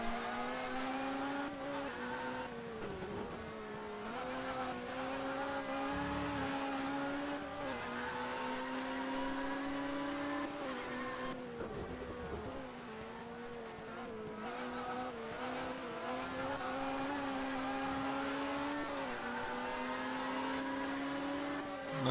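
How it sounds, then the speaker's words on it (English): Touring car engines race in a 1996 BTCC round at Brands Hatch, a steady, moderately distant droning whine that rises and dips with gear changes and throttle lifts, several cars overlapping over a continuous wash of circuit noise. "Let's actually see these engines at work here"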